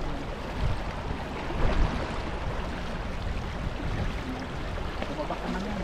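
Steady, broadband rush of fast-moving water, a continuous turbulent roar with no pauses and no voices.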